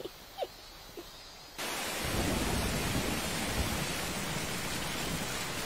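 Steady rain falls with rumbling thunder, beginning faint and sparse before a dense downpour suddenly fills in and continues loud and unbroken, with no voices.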